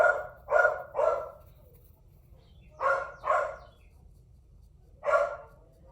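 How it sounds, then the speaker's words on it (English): A dog barks in bursts of two or three barks at a time, with pauses between, fairly clear against a quiet indoor room. "the dog is distracting me"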